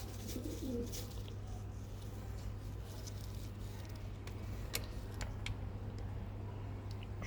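A young pigeon with crooked legs gives a faint, low coo early on over a steady background hum, with a few light clicks afterward.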